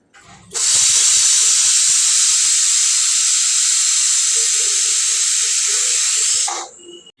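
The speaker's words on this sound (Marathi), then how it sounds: "दोन शिट्टी झाली की लगेच त्याची वाफ काढून घ्यायची आणि झाकण खोलून घ्यायचं आहे" A loud, continuous hiss of steam rushing out of a pressure cooker cooking brinjal, after two whistles, for about six seconds, beginning and ending abruptly.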